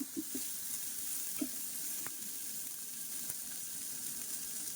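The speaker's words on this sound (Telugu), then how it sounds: "ఇది మనకి అల్లం వెల్లుల్లి పేస్ట్ అనేది ఎర్రగా ఫ్రై అవ్వాలి" Ginger garlic paste fries in a pan for a mutton dum biryani, giving a soft continuous sizzle with a few light stirring clicks and taps near the start.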